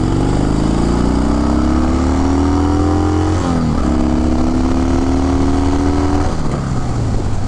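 A 1974 Harley-Davidson Sportster Ironhead XLCH with factory exhaust and a raised idle runs loud and close, its pitch rising and then dropping sharply twice.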